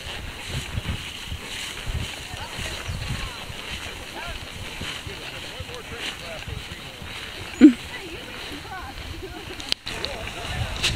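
A horse wades and splashes through water on a hot-day trail ride, a steady broadband sloshing and churning that stays close and fairly even throughout, with one brief sharper knock near the end.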